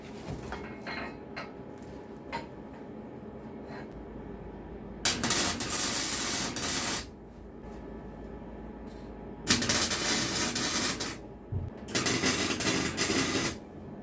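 An arc welder joins a seat to the rear axle of a mini quad kart, with bursts of loud crackling, sizzling buzz lasting a couple of seconds each, separated by quieter pauses with faint handling noises, and no one talking.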